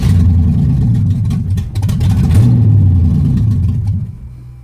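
An old Pontiac engine with a newly fitted exhaust rumbles loud and close, a deep, steady growl that swells into a rising rev midway and then eases back toward idle, with no one talking over it.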